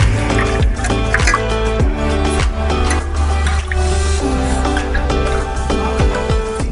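Goat liver being washed by hand in turmeric and salt water, with wet sloshing, dripping and squishing sounds under continuous loud background music.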